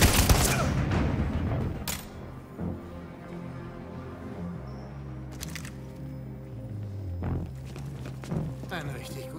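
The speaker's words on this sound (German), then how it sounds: "Ein richtig guter Schuss, Connor." Several sharp gunshots crack out amid a busy soundtrack of music and effects from the video game Detroit: Become Human, with a loud burst at the start and more shots later.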